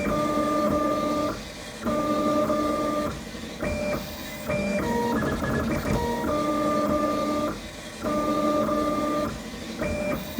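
An Akula 3 3D printer fitted with a ZGX mod prints at 380 mm/s, its stepper motors whining in shifting, rapidly changing tones that stop and start in quick bursts, close and loud.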